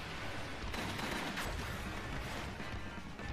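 Dense, rapid bursts of pistol fire in an animated show fill the clip continuously, loud and close, with a sharp crack near the middle.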